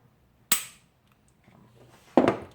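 An M&P Pro Ported pistol's trigger breaks with a sharp click, and about 1.7 seconds later the reset gives a second, louder click. Both are close and isolated in an otherwise quiet room.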